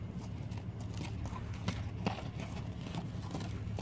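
A ridden horse moves at a steady pace, its hooves giving soft, rhythmic clip-clop thuds under a constant low rumble of background noise, fairly faint and with no clear talking.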